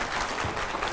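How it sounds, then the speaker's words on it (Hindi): Audience clapping at a televised event with Swami Ramdev, a brief burst of fairly faint, diffuse applause. "तो जोरदार तालियां पहले"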